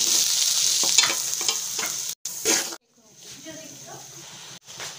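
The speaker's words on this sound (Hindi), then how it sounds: "2 मिनट भूनने के बाद इसमें जाएगी हरी मिर्च बारीक कटी हुई, 1 टीस्पून साबुत धनिया हाथ से क्रश किया हुआ" Finely chopped green chilli, hand-crushed whole coriander and cumin hit a pan to fry for samosa filling, loud sizzling with stirring that cuts out abruptly, then a quieter frying hiss resumes.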